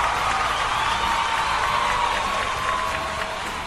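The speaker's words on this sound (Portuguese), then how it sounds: "palmas pra ele ali" Applause and light cheering from a studio audience during an interview with an animator, a steady wash of clapping and crowd noise throughout, moderately loud.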